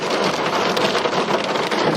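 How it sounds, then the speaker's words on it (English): Dense, steady hail and rain pounding loudly and close in a valley in the Austrian Alps, a constant broadband roar with no break and no voices. "We're in a fucking hailstorm"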